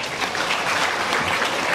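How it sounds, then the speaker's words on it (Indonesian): Dense, continuous applause from a school audience at a student council candidate debate, a loud, even wash of many hands clapping throughout. "Tepuk tangan dulu, Pak Nenis."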